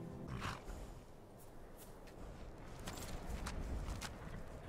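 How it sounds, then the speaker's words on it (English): Game-style horse sounds from a reindeer mount in Skyrim: rhythmic hoof clip-clops with a brief snort or whinny, moderately quiet, with faint background noise. "for some reason it still makes horse noises"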